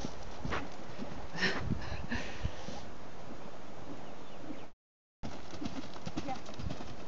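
Horse hooves thud rhythmically on the ground during a riding lesson over fences, a steady clip-clop at moderate distance, with wind and an instructor talking throughout.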